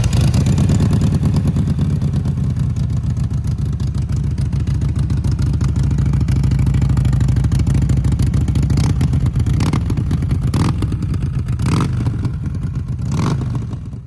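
A Harley-Davidson motorcycle engine idles with a steady low rumble and loud, close clatter, swelling into a few short throttle blips near the end.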